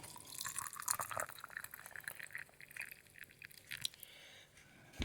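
Boiling water poured over a few small pieces of paraffin wax in a container, a soft wet trickling and dripping with faint splashes, close and quiet, steady for several seconds with no talk.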